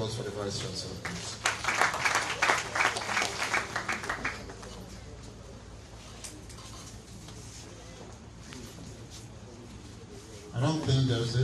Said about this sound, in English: Another round of applause for the Vice Chancellor, please.